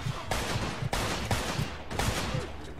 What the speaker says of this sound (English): They got Tommy guns by the sounds of it